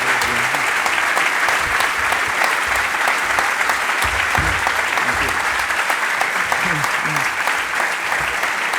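A lecture audience claps at length for Slavoj Žižek, a thick, sustained roar of applause with a few individual claps standing out; faint voices may murmur beneath it.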